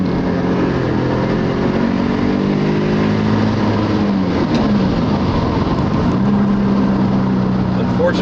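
A Porsche fitted with a Subaru engine drones steadily from inside the cabin, which has Dynamat sound deadening and new carpet, with the engine note rising and falling loudly throughout.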